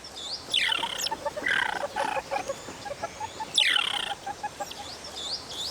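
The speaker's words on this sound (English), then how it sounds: "They chirp angrily and stand upright to look as intimidating as they can." A gang of mongooses chirps angrily while facing off against a snake in the wild, giving rapid bursts of shrill, overlapping calls that rise and fall, close and fairly loud, with no talk.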